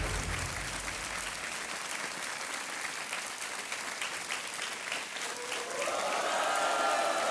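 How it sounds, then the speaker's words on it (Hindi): A studio audience on the TV quiz show Kaun Banega Crorepati claps in sustained, dense applause that fills the whole stretch, with a tonal music sting rising near the end. "तालियां बजती रहनी चाहिए।"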